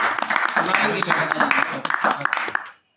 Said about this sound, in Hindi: एक बार जोरदार तालियां आप